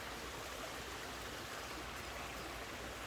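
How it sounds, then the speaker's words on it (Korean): A stream in Gaemi Village, Hongje-dong, Seoul flows in a steady, soft rush of water, faint and continuous with no other sounds. "물소리가 여기도 잘잘잘 흐릅니다."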